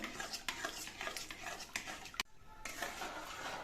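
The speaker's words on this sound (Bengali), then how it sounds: "আমি খুন্তি দিয়ে নেড়ে চেড়ে জলপাইগুলো জলের সঙ্গে বেশ ভালো করে মিশিয়ে দিয়েছি" Boiled olive chutney in a pan being stirred with a metal spatula, soft scraping and clinking strokes with a faint background hum, a brief sharp knock and a short gap near the end.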